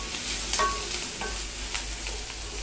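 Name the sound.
stirring garlic and onions sautéing in a pan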